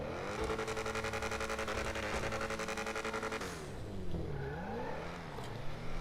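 Engine of the Ocelot XA-21, a mid-engine car, revs with a steady, buzzing drone that then drops off and rises again in wavering pitch sweeps, heard fairly close and alone.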